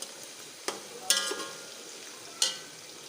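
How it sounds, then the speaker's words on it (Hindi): Okra (bhindi) fries in a pan under a soft, faint sizzle, with a few sharp clicks and scrapes of a spoon stirring against the pan. "ये देखिए भी ज़बरदस्त भिंडियाँ फ्राई हो रही"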